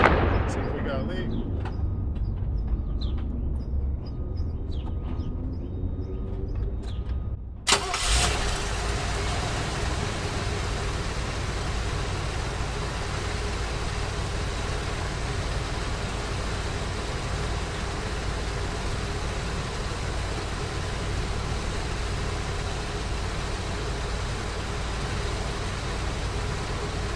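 An Oldsmobile Cutlass with a 307 V8, fitted with a fuel check valve, cranks and catches with a sharp burst, then settles into a steady, rumbling idle that runs on alone at close range.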